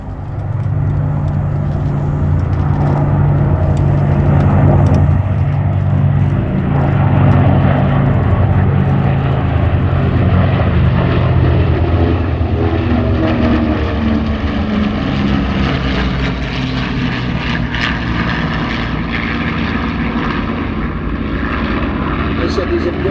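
Red Bull Air Force flying a close mixed formation of propeller aircraft past the crowd at the 2024 Sywell Airshow: a loud, continuous engine drone that swells and slowly shifts as the planes pass, with a commentator speaking over it.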